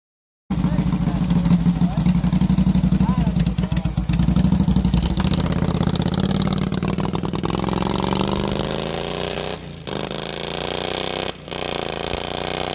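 Racing lawn mower engine running loud and close on a first test ride, a continuous rough roar with a brief revving surge early on and two short dips near the end.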